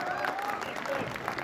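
Spectators clap steadily at a local semifinal cricket match as a batting side's fifty comes up, a dense crowd applause spread evenly through the short moment, with a faint tonal whistle above it.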